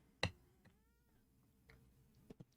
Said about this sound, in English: It's a Mocha cat.